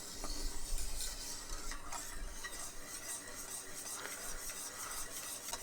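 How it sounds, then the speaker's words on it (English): A spoon stirs milk into a white sauce in a pan on the hob, with a continuous close scraping and swishing and faint clinks against the pan, no talk. "Here comes some more milk. Mix it in slowly."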